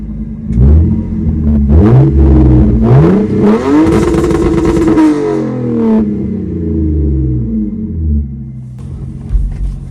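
A Lexus IS300 engine revs hard toward redline in a few rising pulls, the loud rumbling pitch climbing and falling back between bursts before settling to a steady idle, close up with no talking.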